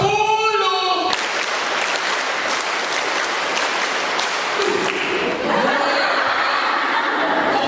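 After a brief tonal voice at the start, an audience at an Islamic religious talk claps loudly and in unison in a counting clap game, the dense clapping keeping up with scattered chuckles and a little talk near the end.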